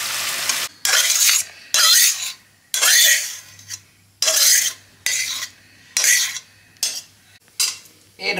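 Egg mustard curry scraped from a pan into a serving dish, a series of sharp metal spoon scrapes and clinks in irregular bursts separated by short pauses, close and fairly loud.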